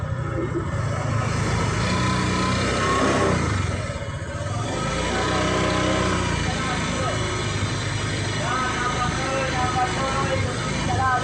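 A Honda Click scooter with a misfiring engine runs at close range, a steady droning idle with uneven stumbles, while someone talks over it.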